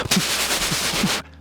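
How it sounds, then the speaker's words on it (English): Loud, raw rapid-fire exhaust crackle from a Mazda 3 with straight pipe exhaust revving hard, a harsh popping roar that cuts off abruptly near the end. "please don't straight pipe your exhaust. It'll sound like this."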